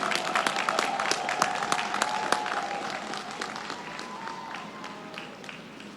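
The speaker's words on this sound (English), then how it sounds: "Let's give them all another round of applause." Applause for the golden class of 2022 at a Founder's Day convocation, a dense crowd clapping steadily for several seconds with no talk over it.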